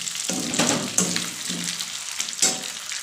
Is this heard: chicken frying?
yes